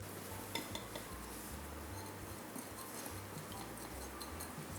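Soy sauce, sugar and sesame oil being stirred together in a bowl, with soft, continuous scraping and light clinks of a utensil against the bowl, quiet and close, under a steady low background hum.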